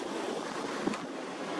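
Ocean waves from a 3-5 ft swell at 9-second intervals wash toward shore, a broad, steady rush of surf under heavy wind noise on the microphone, with no one speaking.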